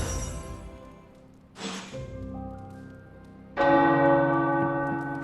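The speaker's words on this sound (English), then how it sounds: "The tower bells are ringing." Tower bells ring in Marvel's Midnight Suns, with a loud, sustained peal of church bells that swells, dips, then strikes again with a bright new clang that hangs and resonates.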